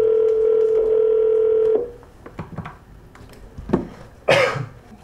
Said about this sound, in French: J'appelle Mathilde.